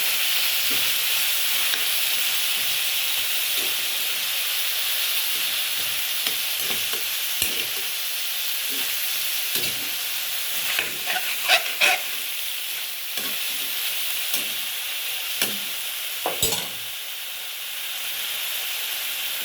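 Chayote and chicken stirred in a cooking pot for tinolang manok, a loud continuous sizzle and hiss with irregular scraping and clanking of the utensil against the pot, no voices.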